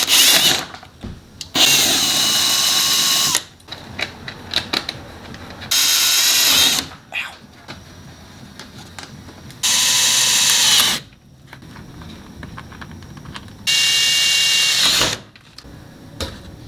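A power drill bores a hole through a fiberglass front splitter on a car, in four loud bursts of a few seconds each separated by quiet pauses and small handling clicks.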